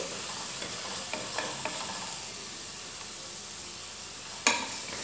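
Masala for vegetable biryani sautés on a high flame, a soft steady sizzle with light stirring taps and one sharper clink of a spoon near the end, heard close without talking.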